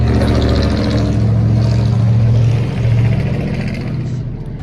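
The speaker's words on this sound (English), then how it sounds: "y'all hear a lot of cars and traffic." Cars and traffic passing outdoors in the street: a loud, steady engine rumble that swells as vehicles go by and eases slightly near the end, heard close with no break.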